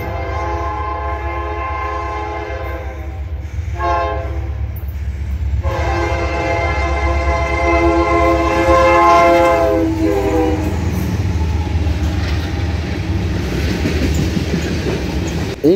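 Freight train hauled by two SD60E locomotives sandwiching NS1042, an unbranded unit without a logo: loud horn blasts over steady rumble and rolling wheel noise, continuous and close throughout.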